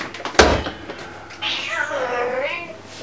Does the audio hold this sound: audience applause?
no